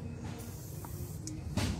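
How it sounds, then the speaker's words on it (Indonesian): WD lubricant sprayed onto the motor of a two-tub Denpoo washing machine with a jammed motor, a few short, soft hissing bursts over a low background hum. "jadi ini kita semprot aja"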